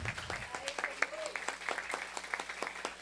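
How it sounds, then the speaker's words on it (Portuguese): Applause at a seminar of the solidarity kitchens forum, a room of people clapping steadily at a fairly low, distant level, with voices faintly audible underneath. "Queria pedir uma salva de palmas."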